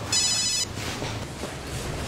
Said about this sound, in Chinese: 不好意思接个电话。